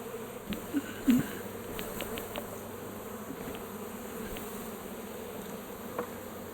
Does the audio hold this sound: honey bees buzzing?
yes